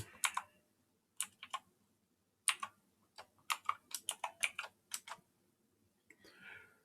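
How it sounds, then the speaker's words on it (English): Computer keyboard typing while entering a password at a login prompt, with short bursts of crisp key clicks separated by pauses, close and clear, with no talking. "I have to type it in correctly"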